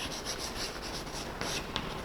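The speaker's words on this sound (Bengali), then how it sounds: "আমি মাহিনা লিখে দিচ্ছি, দেখো।" Chalk or marker strokes as a teacher writes a word on a classroom board, a few short close scratchy strokes with brief pauses between them, faint and without talking.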